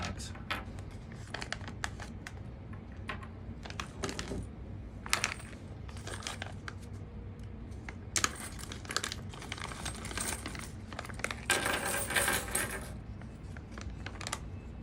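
Mounting hardware, including knobs and lock washers, is taken out of plastic bags, with intermittent crinkling, rustling and small metallic clicks and jingles, close and fairly quiet.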